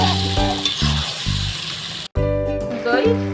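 Fried potatoes sizzle as they are sautéed in a pot of mutton curry, a steady frying hiss close up, with someone talking over it throughout.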